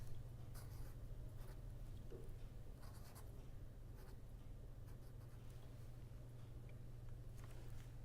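A lecturer writes on a board, the faint scratching and tapping strokes coming in short irregular bursts over a steady low room hum, with no talking.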